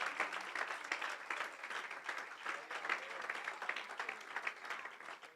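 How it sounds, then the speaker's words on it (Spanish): A church congregation applauds with steady, fairly distant clapping that keeps an even, sustained texture throughout. "Fuerte ese aplauso para el Señor"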